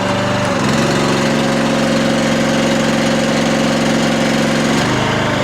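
The engine of a RuggedMade log splitter runs loud and close as it splits a log, a steady droning hum that deepens under load in the middle and then eases back near the end.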